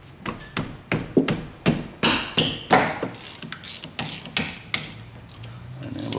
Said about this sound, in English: We're going to crack our bolts loose.